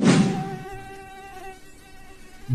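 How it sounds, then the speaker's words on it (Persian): A mosquito's thin, steady buzzing whine drones close by for a couple of seconds. It follows a brief dull thump at the start and carries no talk. "بازیکن پشه رو میگیره."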